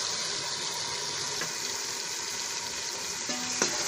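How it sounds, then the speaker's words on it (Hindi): Green beans fry in a pan with potatoes, a steady bright sizzle throughout with a couple of faint utensil clinks, no voices. "अब इसमें हमने फलियां शामिल कर ली हैं, अब इनको थोड़ी देर भून लेंगे।"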